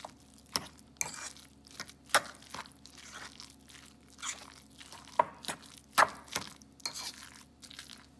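Egg being mixed into a keto salmon croquette mixture of pink salmon, irregular wet squelching and crunchy stirring sounds, close and moderately loud, with no talking.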